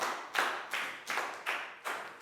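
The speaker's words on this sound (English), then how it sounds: "Big round of applause for Dan." Students in a Year 4 science class clap for a classmate, a soft, evenly spaced series of about six group claps heard on their own.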